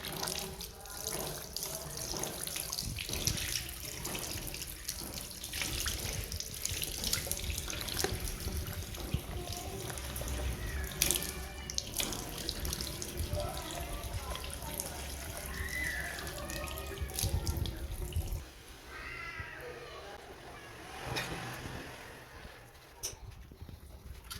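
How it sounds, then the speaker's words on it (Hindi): Running tap water splashes steadily while someone washes face and hands at a sink, with faint clattering and background noise around it, then the flow fades near the end. "लो जी, मुँह हाथ धो लिया"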